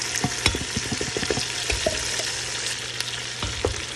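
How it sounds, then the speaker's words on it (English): Rice and seasoning ingredients stirred together in a frying pan: repeated scraping, clacking strokes of a utensil over a continuous sizzle, irregular and close, with a busy burst early and scattered strokes later. "I'm going to go ahead and mix everything together like that."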